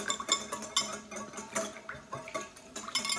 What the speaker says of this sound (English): And then you just wanna mix it up really well with your whisk